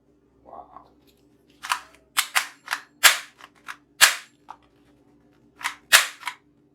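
Realistic AK-47 toy gun firing plastic bullets: a string of sharp, bright snapping shots in irregular bursts, some doubled, loud and close against a faint steady hum.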